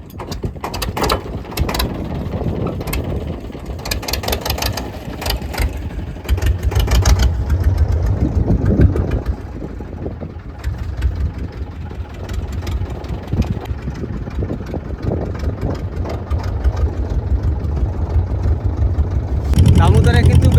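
A boat engine on the Damodar river cranks and settles into a rattling, mechanical idle, loud and close, with people talking over it and a brief surge in engine noise near the end.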